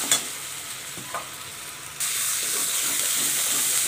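Masala sizzles steadily in hot oil in a pan while being sautéed for stuffed bitter gourd, with a soft hiss that grows louder partway through and a few light stirring scrapes.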